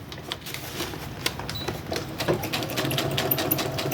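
A sewing machine stitches decorative seams through paper folios for a junk journal, running in a steady fast whirring chatter that stays continuous and fairly close throughout.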